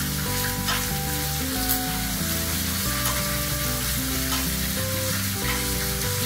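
Butter sizzles and spits steadily in a hot pan as it is spooned over pork chops, a continuous close frying hiss with soft scraping beneath a faint musical bed, no talking.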